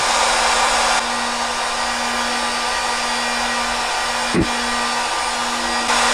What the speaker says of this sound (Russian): Ставим фен и снова измеряем.